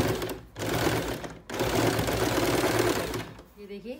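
A sewing machine runs in two loud, close bursts of rapid mechanical stitching through thick cloth of a trouser belt, with a short pause between them and a voice speaking as it stops.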